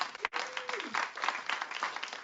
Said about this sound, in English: So let's give our competitors a round of applause.